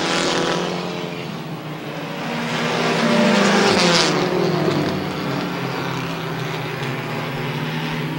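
Dirt modified race cars roar around the Airborne Speedway oval in Plattsburgh, New York, engines loud and close as the pack surges past, rising and falling in a continuous snarling blur.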